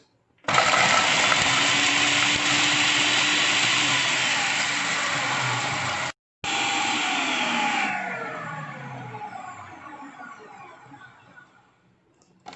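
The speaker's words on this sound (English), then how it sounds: "For that I am taking it in the food processor and placing it in the machine and just starting it." A food processor crumbles biscuits with a loud, steady motor whir up close. After a brief cut it resumes, then gradually winds down and fades out.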